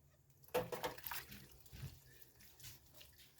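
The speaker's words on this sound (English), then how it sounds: "I will just go through and wash these jars real quick" Glass canning jars are rinsed under running water in a sink: a brief splashing gush with light clinks and sloshing, then quieter dribbles, close and fairly soft.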